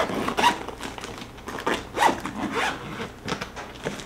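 A zipper on a Dior beauty case is pulled open in several quick rasping strokes, close and fairly loud, with short pauses between pulls.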